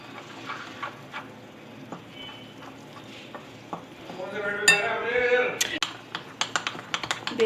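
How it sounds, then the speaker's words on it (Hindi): Gram flour batter gets stirred with water in a bowl for pakoras, giving close, irregular taps and clinks of a utensil against the bowl, busier toward the end, with speech heard in between. "बेसन को जो है हम अच्छी तरह से मिक्स कर लेंगे।"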